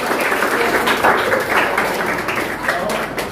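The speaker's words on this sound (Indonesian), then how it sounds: "Tepuk tangan semuanya." A school class claps hands together in a classroom, a burst of fairly loud group clapping with uneven pulses, with children's voices mixed in underneath.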